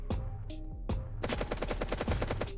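Gunfire in the video game Apocalypse Rising 2: a few separate sharp shots, then a rapid automatic burst of evenly spaced cracks, loud and close.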